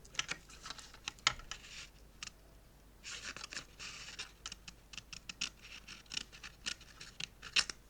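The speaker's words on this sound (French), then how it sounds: "je viens couper ce petit triangle que j'ai formé" Scissors snip a small triangle from design paper, with quiet, close, irregular cutting clicks and paper rustles in short bursts.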